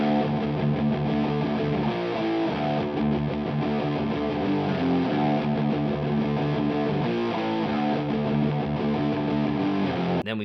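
Two distorted electric guitars play a dense, continuous rock riff together, one adding power-chord fills underneath, loud and steady throughout with no voices.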